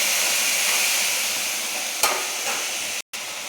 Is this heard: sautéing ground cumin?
yes